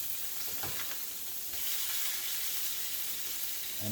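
A beef patty frying in a saucepan gives off a dense, steady sizzle that grows slightly louder partway through, close and continuous with no voices.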